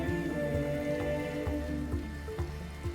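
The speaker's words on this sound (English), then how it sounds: "one of the deer got caught in the rain" Rain falls in a video game, a soft patter of scattered drops over a steady background with repeated faint tonal pulses. The whole passage stays quiet, with no voices.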